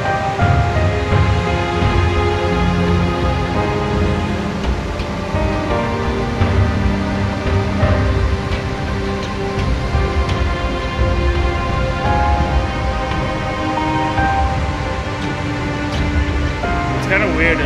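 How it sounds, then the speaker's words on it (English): Steady, dense rushing water roars continuously throughout, loud and close, with no clear breaks, from Niagara Falls at night. "It's a nice waterfall."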